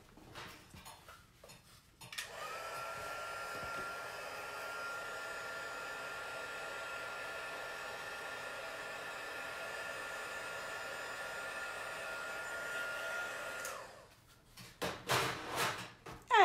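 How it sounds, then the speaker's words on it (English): A heat gun blows with a steady, loud whirring roar for about twelve seconds while drying a watercolor flower, with quiet clicks and handling noises before and after. "i'm gonna hit the flower super quick with the heat gun"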